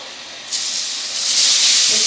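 Grated carrots hit an oiled pan in a village kitchen, and a sharp steamy sizzle starts suddenly, then swells into a loud, steady hiss.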